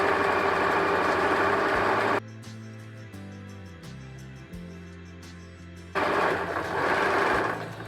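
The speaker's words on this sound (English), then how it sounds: "We'll sew our medium one." A sewing machine stitches fabric for a fall home decor project. Its steady whirring hum runs at full speed, drops to a lower slow-stitching drone with faint ticks in the middle, then speeds up again.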